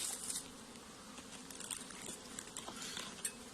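Honeybees buzzing in an open beehive during a winter inspection of honey reserves: a dense, continuous swarm hum, near and fairly soft, with scattered small crackles and knocks from the hive frames and no talking.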